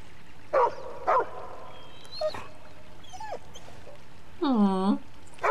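A dog in the Nightmares from the Deep 3 game gives a few short yips and barks, spaced out and moderately loud, followed by a longer whining bark-like call among other soft game sounds.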